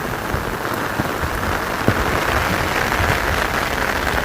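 Heavy rain falling in a village pours down in a dense, steady hiss of drops drumming on surfaces, loud and continuous with no voices.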